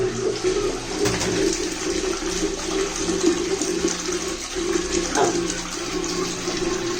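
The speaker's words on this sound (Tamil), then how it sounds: "தண்ணி இறங்க இறங்க இந்த பால் பாருங்க இறங்குது." Water rushes and gurgles steadily as a Western toilet's flush tank drains, its float ball dropping, a continuous close sound with occasional faint chirps in the background.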